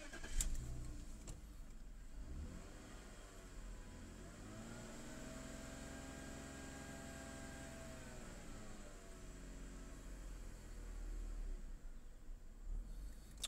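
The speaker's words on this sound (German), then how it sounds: "So, starten wir mal die Karre wieder." Car engine started during an OBD diagnostic session, heard as a low steady idle hum with a slowly shifting tone, fairly faint and without talk.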